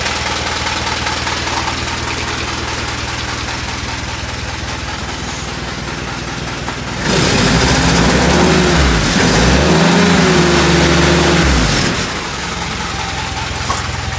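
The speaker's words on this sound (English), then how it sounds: "I've just left her idling for a minute to make sure she didn't start spluttering or banging or doing anything weird." A D-Day display Jeep engine idles roughly and loudly after starting, with a steady low rumble throughout that rises into a slightly fuller, wavering surge midway before settling back to idle.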